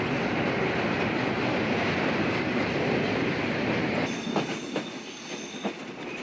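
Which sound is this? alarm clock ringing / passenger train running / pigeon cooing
passenger train running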